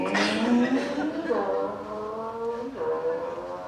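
A voice imitates a car driving off, a loud vroom whose pitch rises and slides between gear-change-like steps, delivered as a comic sound effect.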